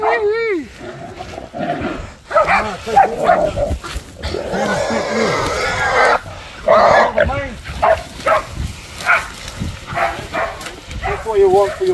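Several hunting dogs bark and yelp in a frantic burst at a wild pig in Taranaki, New Zealand, with a voice talking over the commotion and rustling movement throughout.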